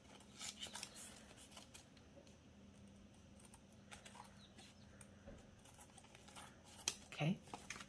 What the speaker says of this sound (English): so let's cut this excess off